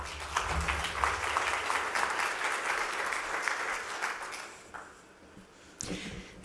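Audience applause greeting a speaker taking the stage at the ESET 2017 NAPC conference: a steady crowd clapping, fairly close, that fades out near the end before a short burst of renewed sound.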